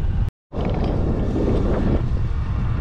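A steady headwind roars across the microphone during a ride on an electric Scott Axis mountain bike along the Canal du Midi, a loud, constant rumble broken by one brief dropout near the start, with no voices.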